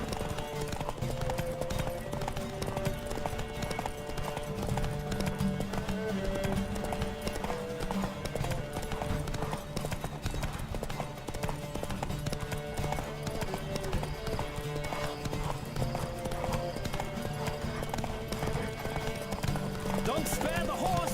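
A horse gallops steadily in The Witcher 3 during a race, its hoofbeats running without a break under game music and a voice calling out.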